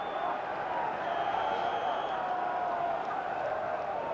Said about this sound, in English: the cheers of the Villa faithful